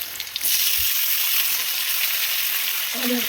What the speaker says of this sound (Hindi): गोभी को पसीने में थोड़ा सा फ्राई होने के लिए छोड़ दें